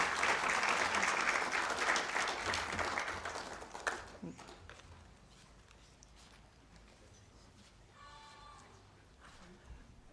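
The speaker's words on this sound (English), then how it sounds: "Let's give her a better clap." Loud, dense applause from a workshop audience after opening remarks, sustained for about four seconds and then dying away into faint room noise with a brief voice later.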